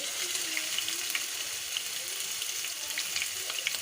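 A steady, close sizzle of garlic and ginger frying in hot oil with faint crackles and pops. No one speaks.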